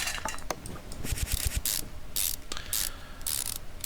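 Rapid ratchet clicks from removing bolts in Car Mechanic Simulator 2015, in quick bursts of ratcheting with short pauses between, loud and close.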